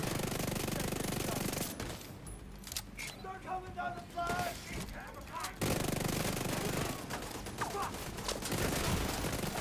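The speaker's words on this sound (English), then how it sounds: "See those double turrets I was talking about right there" Double turrets firing in the video game The Division 2, dense continuous automatic fire with loud bursts, pausing briefly in the middle before resuming, with a voice talking over it.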